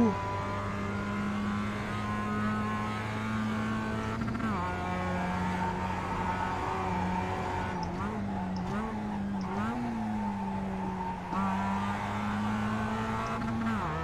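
A Mazda MX-5 race car engine in the iRacing game at Summit Point drones steadily with sustained revs and small pitch shifts as gears change, while a voice talks over it at times.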